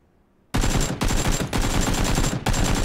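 Loud automatic gunfire in PUBG Battlegrounds, coming in three long sustained bursts with brief breaks between them, close and dense with no talking.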